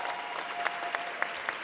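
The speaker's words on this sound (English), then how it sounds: "Give them one more round of applause." Applause from the audience at a Safe Horizon celebration gala, with moderate continuous clapping and a few sharper claps standing out, heard from a little distance.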